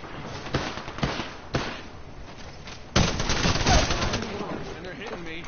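Gunfire in a video game battle during a tournament match, several sharp shots then a denser burst of rapid firing, loud and close, with brief talk mixed in.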